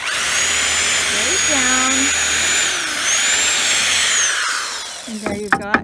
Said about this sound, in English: you're just going to go down right where that center X meets and drill